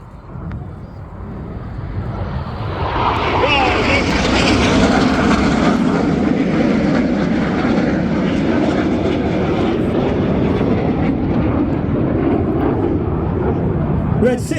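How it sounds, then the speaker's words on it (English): Red Arrows display jets dive low over the airfield at an air festival, a loud roaring jet noise that builds and sustains as they pass, with a commentator talking over the sound throughout. "Each pair will now dive down to approximately 200 to 300 feet above the airfield."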